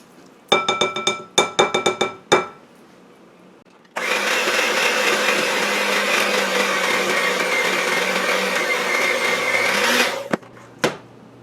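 Several sharp clinks against a bowl come first. Then an electric mixer whirs steadily for about six seconds, beating eggs into batter for a Sock-It-To-Me cake, before a final tap or two.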